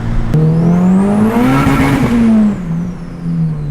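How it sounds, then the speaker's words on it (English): A turbocharged B16 Honda Civic hatchback chirps its tires in a loud, rising squeal over the engine's strained drone, peaking mid-run and then easing off as the motor note falls away. "I love the little tire squeal."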